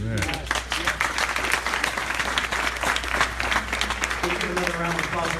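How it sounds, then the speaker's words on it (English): Audience clapping runs underneath steady talk and voices throughout, a choppy, uneven patter of hands set against a low continuous hum. "Give you another round of applause for Dr. Wright."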